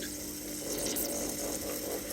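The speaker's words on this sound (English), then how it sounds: "you can hear the air in that pump coming out" Air vents from the pump of a Worcester Bosch compact combi boiler with an airlock, a continuous close hiss and gurgle of escaping air and water that holds steady throughout.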